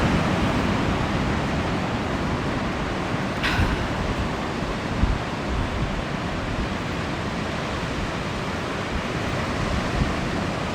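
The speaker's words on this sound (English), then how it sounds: "So this is 1 Mile Beach, and the Koala Hospital is located just over that sand dune there" Steady broadband surf and wind at One Mile Beach near a sand dune, a continuous wash of waves from fairly close with no voices.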